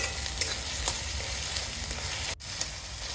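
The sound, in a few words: stir-frying spice paste with chili, turmeric and salt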